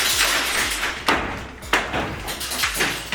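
Wood cracks and splinters as a fascia board is wrenched loose from a flat roof, with three or four sharp thuds and creaks against steady outdoor noise.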